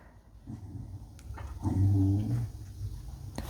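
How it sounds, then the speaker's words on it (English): A pet dog growls low and rumbling at close range, rising to a louder sustained growl in the middle with a few softer whimpering noises around it, with no speech. "I love my dog."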